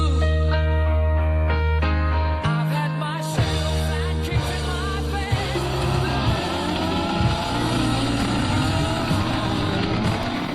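A retro-styled race car drives past with rising and falling engine tones, several gear changes and some tire noise, heard clearly without talk.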